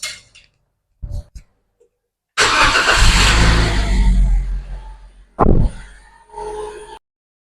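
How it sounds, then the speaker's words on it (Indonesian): A Toyota Calya Sigra car starts after a couple of short cranks, its engine catching with a loud rev, settling into a running idle, then a second sharp burst before it hums on. "nyalakan mesin."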